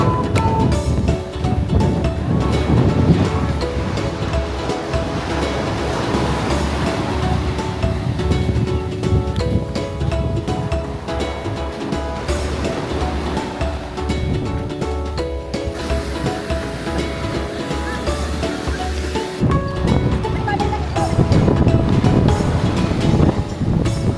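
Strong wind and heavy surf roll onto a Turks and Caicos beach after Hurricane Erin, a loud continuous roar of breaking waves with gusts buffeting the microphone throughout.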